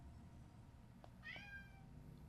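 A cat meows loudly from another room, one drawn-out cry heard faintly over steady background hum.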